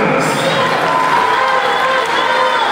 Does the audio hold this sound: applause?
yes